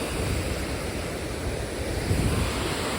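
A steady, moderately loud wash of rushing water at a riverside spot, with gusts of wind buffeting the microphone. No voices break through.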